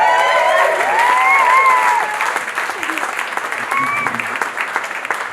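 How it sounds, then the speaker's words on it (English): Wedding guests applaud the bride during the groom's thank-you speech, loud sustained clapping mixed with cheering and voices, easing slightly halfway through but continuing to the end. "Give her a round of applause."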